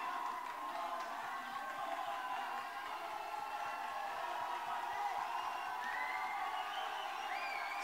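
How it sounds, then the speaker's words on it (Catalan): Concert audience at a reggae show at Razzmatazz applauding and cheering steadily, a dense wash of clapping and crowd noise with scattered whoops, moderately distant and continuous throughout. "Fort l'aplaudiment per tots ells!"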